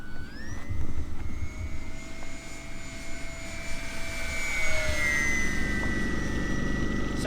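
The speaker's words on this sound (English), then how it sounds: "We're gonna do a full speed pass here and see how that feels." A HobbyZone P-51D Detroit Miss RC model plane, 1100mm span, makes a full-speed pass, its electric motor whining loudly in a high tone that shifts in pitch as it sweeps by over steady outdoor wind noise.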